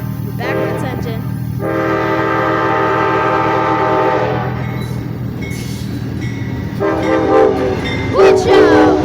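An Amtrak Sunset Limited passenger train, led by a backwards-facing engine, rolls past while its K5LA horn sounds loud sustained chords, breaks off, then blasts again over the steady rumble of the cars and rails.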